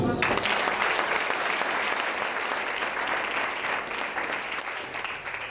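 A church congregation bursts into loud, sustained applause from the start, a dense mass of clapping that slowly eases in level, with voices faintly mixed in.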